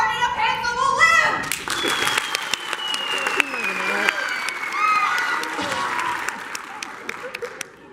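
Audience applause in a school one-act play, a burst of many hands clapping that swells and carries on steadily, with children's voices and chatter over it.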